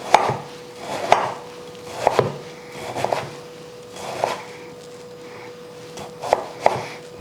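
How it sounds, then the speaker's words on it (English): A knife cuts thin slices from half a celeriac on a cutting board for a Waldorf salad, giving about eight close, crisp strokes at a fairly even pace, each ending in a thud on the board. "We try to have thin slices, like that."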